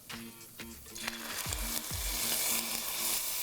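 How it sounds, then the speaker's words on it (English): Quarter pound of ground beef sizzling in a little oil as cooking wine goes into the hot pan, a steady close hiss swelling louder with a few brief knocks and stirring clatters. "I've been cooking up a 1/4 pound of ground beef in a little bit of oil."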